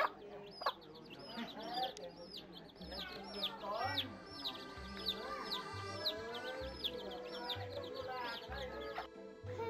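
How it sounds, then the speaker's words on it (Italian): A mother hen clucks among her chirping chicks in Luang Prabang, Laos. The chicks' high peeps repeat densely throughout, with lower clucks and murmuring voices underneath. "una chioccia con i pulcini"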